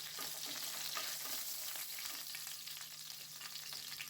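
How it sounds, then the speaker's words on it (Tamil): Curry leaves and a broken green chili fry in hot oil while cooking a corn gravy, a steady close sizzle and crackle with occasional stirring scrapes and no talk. "இதெல்லாம் நல்லா பொரிஞ்சதும் ஒரு கொத்து கருவேப்பிலை, வாசனைக்காக ஒரு பச்சை மிளகாயை உடைச்சி சேர்த்துருக்கேன்"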